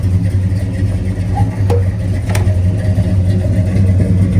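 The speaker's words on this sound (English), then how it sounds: "That dual exhaust sounds awesome." A 1966 Pontiac GTO with a 389 Tri-Power V8, 335 hp and a 4-speed runs through dual exhaust, giving a loud, steady, deep low rumble close by with no talk.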